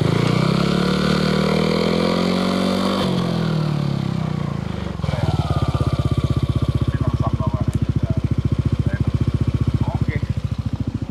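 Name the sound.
modified Yamaha Aerox scooter engine being revved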